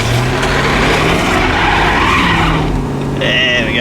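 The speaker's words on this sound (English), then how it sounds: "Turning the flat tyres up." Ford AU XR8 Falcon driving on flat tyres, its V8 engine roaring loudly and steadily with tyre scrub and squeal, a high whine rising near the end.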